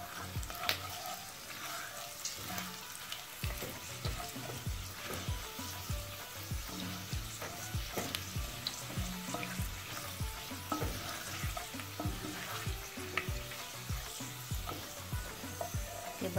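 Fenugreek seeds, curry leaves and dried red chillies frying in oil for curry pakora, a soft steady sizzle with a continuous rhythmic stirring scrape throughout, fairly quiet and close.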